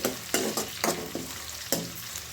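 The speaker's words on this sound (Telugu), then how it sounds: "బొమ్మిడాయలు వేసుకొని వేయించుకుంటే స్మెల్ అనేది ఉండదండి" Bombil fish frying with onions in a pan gives a close hiss, with several sharp spatula scrapes and knocks spaced irregularly over the sizzle.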